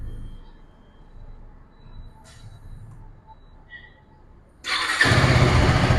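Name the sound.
KTM Duke 390 motorcycle engine starting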